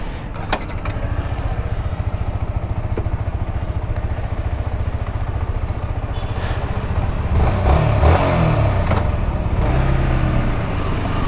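White Yamaha R15 V4 motorcycle ridden just after servicing, its engine giving a rapid, even pulsing drone with a clattery edge, rising a little as it picks up speed in the second half.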